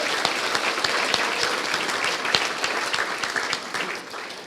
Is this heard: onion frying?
no